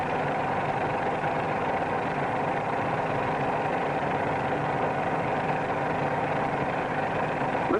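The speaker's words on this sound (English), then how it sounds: "notice that the sound of the engine changes rather slowly." Airplane engine in a climb, an old 1940s training-film recording, droning loudly and steadily near at hand with a low, even hum and no clear change in speed.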